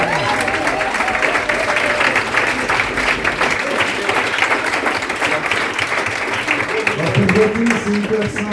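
A French competition audience bursts into sustained, dense applause and cheering, loud and close, with a voice speaking over it near the end.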